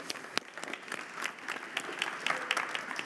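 A modest morning audience at an EXPO Real logistics real estate panel applauds, scattered distinct claps over a light steady patter, moderately quiet and without talk.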